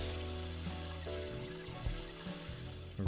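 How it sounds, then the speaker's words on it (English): A sonic shower cleaning a fish tank in the Aquarist video game, a steady watery hiss and trickle at moderate level, running continuously with faint tonal game sounds underneath. "It's a sonic shower."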